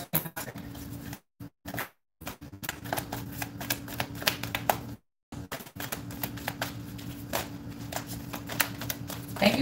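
Tarot cards shuffled by hand in a long run of rapid riffling and flicking, close and steady, broken by two or three short pauses, with no talking.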